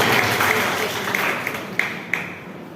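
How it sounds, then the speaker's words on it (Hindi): An outdoor political gathering in Poonch greets a visiting BJP women's wing general secretary with crowd applause, a diffuse fading wash of clapping with a few sharp louder claps near the end. "मैं आपसे कहूंगा जोरदार तालियों से इनका जो है स्वागत, जोरदार तालियों से।"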